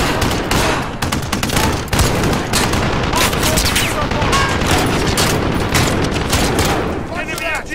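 Dense, sustained automatic fire from an enemy machine gun in the Call of Duty Modern Warfare campaign, loud and continuous with scattered booms and impacts, while a voice talks over the battle noise.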